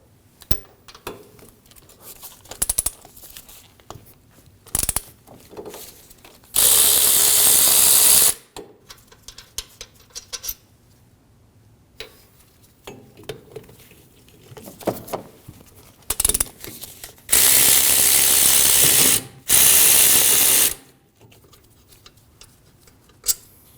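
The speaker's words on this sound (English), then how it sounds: "To remove the caliper, we have two 14mm bolts holding it to the knuckle." Ratchet wrench loosening the 14mm rear brake caliper bolts on a 2013-2015 Subaru XV Crosstrek, with two loud bursts of rapid clicking and scattered metallic taps and tool handling between them, no speech.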